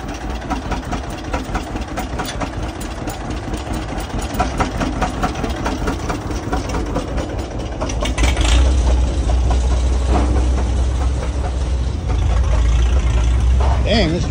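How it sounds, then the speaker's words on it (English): A Farmall tractor pull-starting a John Deere tractor engine at a Michigan tractor show, heavy engine rumble running throughout and swelling louder near the end, with crowd chatter and other machinery in the background. "Farmall pull starting a John Deere."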